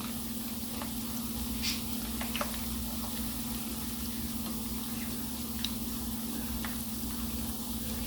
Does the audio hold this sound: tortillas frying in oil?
yes